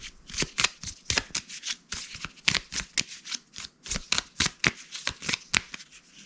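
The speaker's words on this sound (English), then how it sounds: "Let's get these cards shuffled up here real quick." Rapid, crisp riffling bursts of a deck of playing cards being shuffled, repeated in quick uneven runs, close and clear with no talking.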